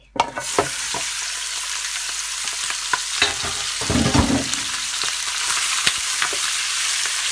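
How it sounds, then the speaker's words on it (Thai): Chicken with lemongrass and kaffir lime leaves sizzling and crackling in hot oil for a spicy stir-fry, with steady frying hiss and occasional scrapes and clinks of stirring, close up and without talk. "เอาลงไปลวนเลย"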